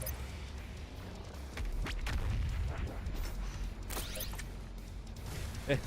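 The BFG 10,000 fires in the video game Doom Eternal, a deep, building rumble that swells into a heavy boom and then rolls on with low mechanical noise.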